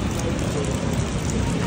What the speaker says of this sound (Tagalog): Napakalakas nga naman ang ulan.